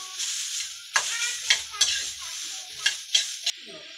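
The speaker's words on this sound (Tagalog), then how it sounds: "Tapusin ko lang itong pagluluto ko." Food fries in a pan with a bright crackling sizzle, broken by several sharp utensil scrapes and clinks against the pan, close and fairly loud.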